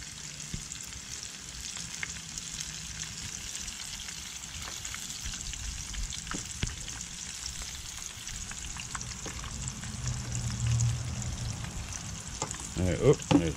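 Battered dandelion and fiddlehead deep frying in hot oil, a steady close sizzle and crackle running throughout, with brief stirring clatter and a few louder pops near the end.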